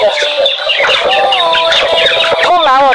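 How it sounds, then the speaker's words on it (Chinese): Many chickens at a poultry seller's stall cluck and squawk continuously, loud and close, with rising squeals toward the end and faint human voices mixed in. "这家小鸡不错，咱们去买几只回去吧"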